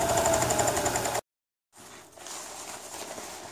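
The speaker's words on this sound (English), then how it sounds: "I'm just sewing this other seam, the outer seam, I guess." A sewing machine stitching the outer seam of a tent fly zipper runs in a steady fast whir, stops abruptly into brief silence, then resumes more quietly.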